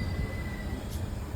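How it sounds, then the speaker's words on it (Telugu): The Andaman Express train at a railway station, a close, steady low rumble of rolling carriages with a faint high whine, brief and continuous without talk. "ఇంకా ట్రైన్ వచ్చేసింది, అండమాన్ ఎక్స్ప్రెస్ అనమాట ఇది వచ్చి."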